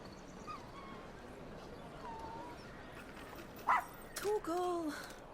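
Torgal, the dog in Final Fantasy 16, lets out a few short, high yips and whimpering barks near the end over quiet game ambience, with a faint voice underneath.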